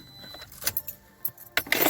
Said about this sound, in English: So I'm going to go ahead and turn off my car right now